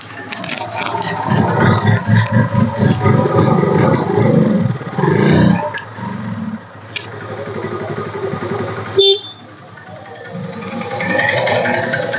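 A used Honda Unicorn motorcycle, a self-start model with disc brake, runs at a bike market in Coimbatore, its engine idling steadily up close with a few revs, while people talk nearby.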